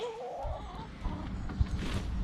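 Backyard hens cluck softly and intermittently at close range, with low scratching and rustling around them and no talking.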